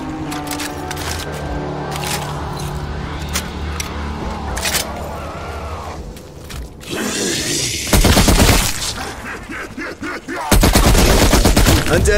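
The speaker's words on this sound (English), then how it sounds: "Nothing stands up to an LMG." A light machine gun in Call of Duty Zombies on PS5 firing sustained loud bursts, preceded by crackling game effects and ambient rumble, with heavy rapid fire dominating the last seconds.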